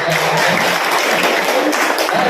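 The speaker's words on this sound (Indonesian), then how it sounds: "Kita berikan tepuk tangan untuk Bapak." A crowd applauds, dense and loud, with steady clapping filling the whole moment without any break.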